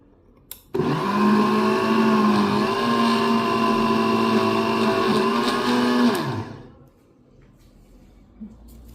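A blender motor whirs loudly and steadily for about five seconds while whisking mayonnaise, its pitch wavering slightly as it churns, then winds down and stops.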